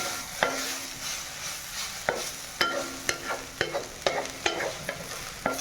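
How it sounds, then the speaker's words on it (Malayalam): Aanathumba thoran with a pinch of turmeric stirred in a pan, a spatula scraping and tapping in a quickening run of sharp knocks over a soft sizzle. "ഒരു നുള്ള് മഞ്ഞപ്പൊടി ഇട്ട് ഇളക്കിക്കൊണ്ടിരിക്കുന്നു"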